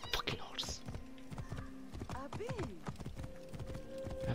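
In Assassin's Creed Origins, a horse's hooves clip-clop in quick repeated beats while the animal lets out short neighs and snorts, with someone talking over the sounds.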